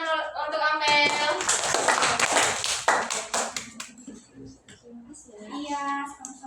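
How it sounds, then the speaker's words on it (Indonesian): Children clap for a classmate in a classroom, a burst of hand claps that swells for a few seconds and then trails off, with voices talking before and after. "Beri tepuk tangan untuk Amel"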